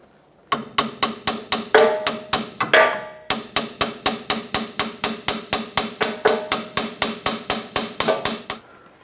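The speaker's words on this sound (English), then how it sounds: "let me get a hammer. I'll tap it out" A metal hammer taps a rear sway bar link out of a 1996-2002 Toyota 4Runner in a fast, steady rhythm, dozens of sharp ringing strikes close up, with a short pause partway.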